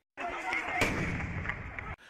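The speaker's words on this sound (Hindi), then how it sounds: "बम का धमाका इतना जोरदार था" A bomb thrown at people standing by a wall in Birbhum, West Bengal bursts out in a heavy explosive blast, followed by a long, rumbling roar of debris and noise before it cuts off abruptly.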